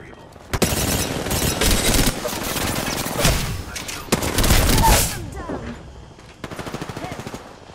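Bursts of automatic fire and single shots crack out in Apex Legends, loud and close in clustered volleys with brief gaps between them, while voice lines are heard alongside.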